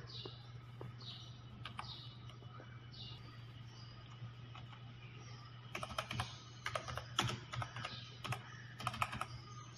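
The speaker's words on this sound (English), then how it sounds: "Type the text in the placeholder box." A computer keyboard clicks under light typing, with sparse soft key taps at first and then denser, quicker bursts of keystrokes toward the end, over a low steady hum.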